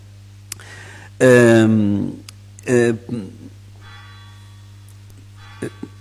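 Church bell strikes during a Holy Family feast-day Mass at the parish of Espinhel, Águeda: two or three loud, resonant tones with short decays, ringing close over a steady low hum.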